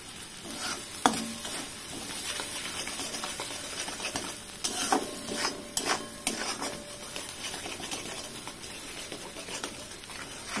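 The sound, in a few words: mashed pointed gourd paste being stirred and fried in a pan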